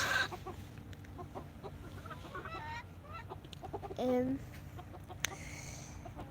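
Chickens cluck and chatter in the background while someone speaks quietly nearby; one bird lets out a louder, drawn-out call partway through.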